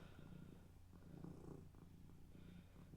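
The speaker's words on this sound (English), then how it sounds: "I really hope you can hear his purrs over the microphone because they're very loud." A loud pet cat purrs close up, a steady rumbling drone with rhythmic breathing pulses, continuous throughout with no talking.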